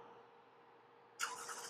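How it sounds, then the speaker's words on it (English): A 2023 Lexus ES engine starts by remote start, a sudden rise in steady running noise after a quiet stretch, close by and moderately loud. "And the engine has started."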